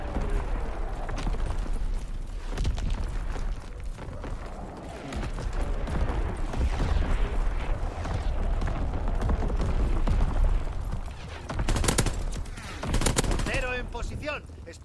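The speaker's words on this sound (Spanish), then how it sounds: "¡Artillería enemiga!" Dense, continuous battlefield barrage from an enemy artillery strike in the WWII multiplayer shooter Call of Duty WWII: heavy rumbling blasts overlapping with rattling gunfire, loud and sustained throughout, with a few sharper bursts near the end.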